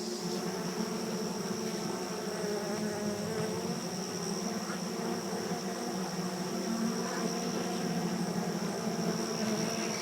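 Honeybees buzz in a dense, steady drone with a sustained high whine and lower hum, an unbroken even tone throughout, close and moderately quiet.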